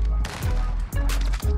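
Bursts of RAM-7 assault rifle fire in Modern Warfare, loud and close, with two or three rapid volleys separated by brief pauses.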